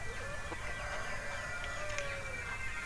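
Chickens penned inside a wire-mesh coop in a hill village of Uttarakhand give steady clucks and squawks over a continuous background noise, moderately close, with no talking.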